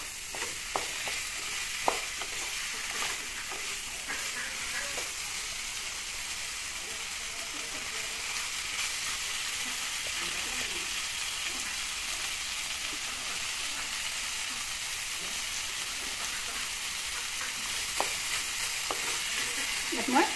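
Fish sizzling and crackling steadily in hot oil in a pan, a continuous close frying hiss with occasional small pops, no talk.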